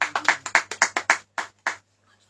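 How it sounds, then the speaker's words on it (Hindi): Hands clap in a quick, steady rhythm at a church worship gathering, about nine sharp claps close together that slow into two final claps before falling silent. "यीशु मसीह के नाम में सब जन तालियों के साथ पवित्र आत्मा का स्वागत करते हैं"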